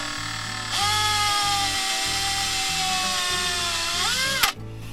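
A power drill bores into fiberglass and epoxy with a steady, loud high-pitched whine that holds for several seconds, then rises sharply before cutting off.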